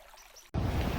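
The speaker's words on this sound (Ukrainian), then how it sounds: "Перед вами маленька річка з великою історією." Loud broadband rush of a small river's flowing water starts abruptly halfway through, steady and close after a quieter first half.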